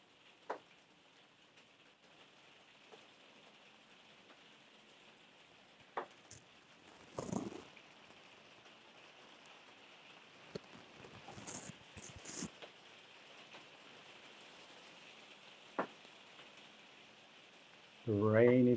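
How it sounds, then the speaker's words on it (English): Steady rain falls outside during a breathwork class, a soft constant hiss with faint scattered drips and a few louder bursts, ending with a brief louder noise at the close. "The rain is here again."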